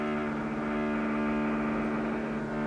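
Construction work next door produces a steady droning hum with a buzzing edge, a continuous mechanical noise heard from a distance with no voices.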